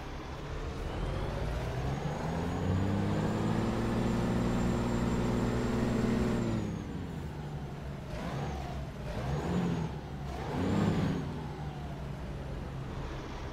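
Engine of a Peterbilt 350 truck in American Truck Simulator, a deep, steady diesel drone at moderate volume. It runs down after about six seconds, then comes two rising and falling whirs like the starter cranking, with no speech.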